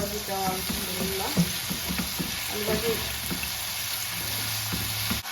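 Potatoes frying in a pan make a continuous, steady sizzle, with some clinks and stirring sounds early on.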